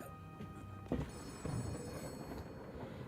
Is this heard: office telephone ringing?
yes